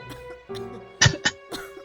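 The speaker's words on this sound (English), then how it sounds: "there's already coughing" Someone coughs in a few harsh bursts, a pair of sharp coughs followed by another, close and fairly loud against a quiet background with soft music.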